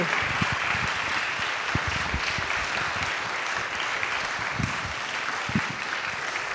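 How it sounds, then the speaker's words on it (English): Steady, dense applause from an audience at a film discussion event fills the whole stretch evenly and without pause, with no talking over it. "If we can have a round of applause for Martin and Sister Simone."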